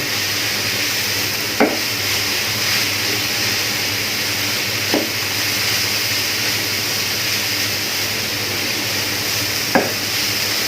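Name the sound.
stirring grated carrots with ghee in a pan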